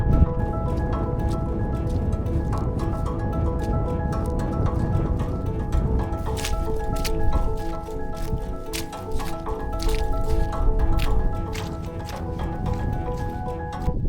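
Footsteps squelch and suck through wet boggy ground on Fountains Fell in the Yorkshire Dales, a continuous close run of wet squishes and drips against a steady background rumble.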